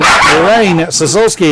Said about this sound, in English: that's my dog still joining in